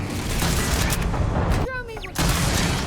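Gunfire in the Starfield video game, with loud dense bursts of shots and booms filling most of the moment, briefly dropping away for a shorter tonal sound before the shooting resumes.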